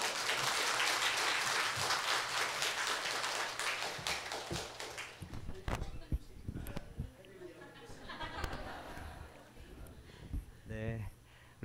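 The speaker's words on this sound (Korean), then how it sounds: "이 시간 우리 강은수 목사님 모실 때 힘차게 박수로 맞이합니다." A church congregation claps loudly at a Sunday service to welcome the pastor, dense applause lasting about five seconds before fading into scattered claps, murmurs and light laughter.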